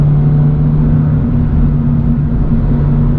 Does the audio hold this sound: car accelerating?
yes